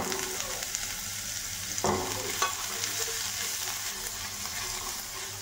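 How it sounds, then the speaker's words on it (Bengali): Nigella seeds and garlic spluttering in hot oil, a continuous close crackle broken by a sharp clatter as the garlic drops in, then steady sizzling. "দেখো এর মধ্যে একটু কালো জিরে ফোড়ন দেবো, আর এই যে রসুন এটা দিয়ে দেবো।"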